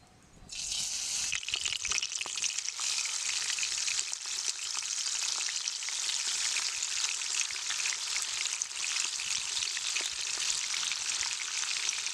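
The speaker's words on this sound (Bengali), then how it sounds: "তেলটা আমার গরম হয়ে গেছে আমি একে একে মাছগুলো দিয়ে দিচ্ছি" Steady, dense sizzling of pabda fish frying in hot oil, loud and close, beginning abruptly after a brief quiet moment and continuing without pause.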